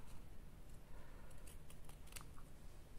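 Scissors snip through craft material for charm embellishments, a few quiet, sharp cuts spaced unevenly over a low background hiss.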